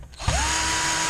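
A power drill whirs steadily at close range while removing screws from a flat-screen TV, the motor spinning up briefly and then holding a continuous high whine.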